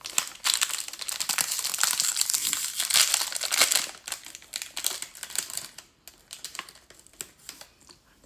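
Small plastic snack bags holding cheese-filled crackers crinkle and rustle up close, busy and continuous for about four seconds, then in sparser, quieter crackles and handling.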